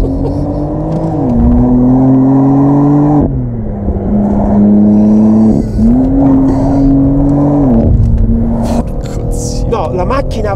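A car on a test drive runs loud and close throughout, its engine droning and rising in pitch through several rev climbs and gear shifts, with faint talk beneath.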